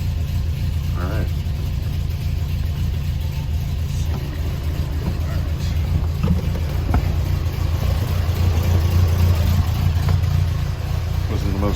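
Triumph TR4A car engine, long stored in a barn, running roughly just after starting with a sticking choke, a close uneven idle drone with some revving, while a person talks over it.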